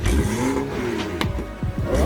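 BMW F30 335xi with a newly installed Stage 2 Plus downpipe, its exhaust revving up and down close by in quick rises and falls over a steady idle rumble.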